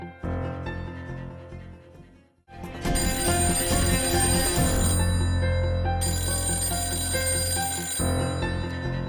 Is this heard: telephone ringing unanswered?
yes